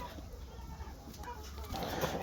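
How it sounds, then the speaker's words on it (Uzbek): Backyard flock of six hens and a rooster clucking at a distance, soft intermittent calls over a low background rumble that grows a little livelier toward the end. "Keyin mana tovuqlarimiz bor. Tuxumga kirdi o'sha bitta ikkita. 6 tovuq, bu yerda bitta xo'roz bor."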